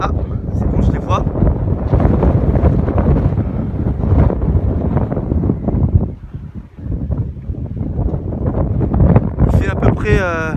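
Gusts of about 80 km/h buffet an outdoor microphone with loud, rough rumbling that surges and dips, easing briefly midway before returning, while a voice is faintly present near the end.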